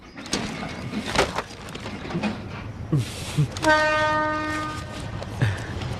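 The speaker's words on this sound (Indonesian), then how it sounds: "Wah, keretanya sudah datang." A train pulls into a station in an animated scene, with rumbling wheels and clatter followed by a long, loud horn blast in the middle, then more rolling clatter.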